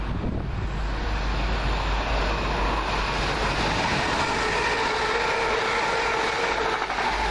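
A passenger train on the Edinburgh Waverley to Manchester Airport service passes through East Didsbury, a loud, sustained rushing rumble with wind-like roar that swells and shifts in tone as the carriages go by, no voices.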